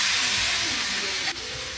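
Pasta sauce for a four-cheese pasta sizzles in a hot pan as it is mixed, a broad steady hiss that dips briefly near the end before carrying on, with no talking.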